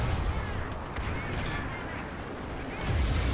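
A tank's machine gun fires in the War Thunder video game, a steady stream of shots blended into a rumbling engine and battle noise, moderately loud and continuous.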